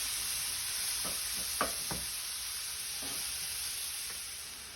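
Mushrooms sizzling in a pan on medium-high heat for plant-based tacos, a faint steady hiss with a few soft spatula knocks and stirs close by; no talking.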